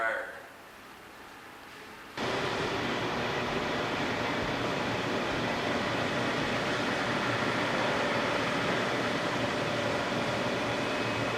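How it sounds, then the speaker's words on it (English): A hair dryer in a boys' locker room runs with a loud, steady broadband whoosh. It starts abruptly after a brief quieter moment and holds at the same level for about nine seconds. "And the hair dryer."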